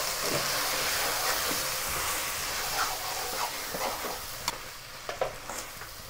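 Mutton stirred in a pan with turmeric, chili and salt gives a steady hiss of sizzling oil with scattered scraping taps of the spoon, close and continuous.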